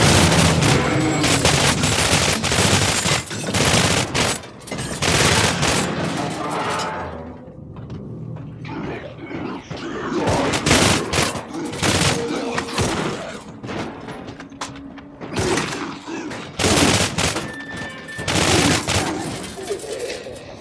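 Heavy gunfire in the horror shooter Cryostasis: Sleep of Reason, with dense, loud volleys of rapid shots and booming impacts filling most of the stretch and a brief lull in the middle, and someone speaking now and then.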